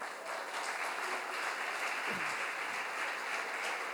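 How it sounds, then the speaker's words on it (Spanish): Church congregation at Iglesia Paz y Vida applauding, with a dense, even wash of clapping at moderate distance, sustained throughout and with a brief low thump near the middle. "Dele un aplauso al Señor"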